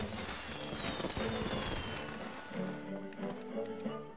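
Fireworks go off inside a Disney Infinity toy box video game, a quick run of popping bursts and crackles over game sounds, fading toward the end.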